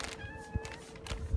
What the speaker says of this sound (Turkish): Hadi ye bakalım küçük kedicik ye.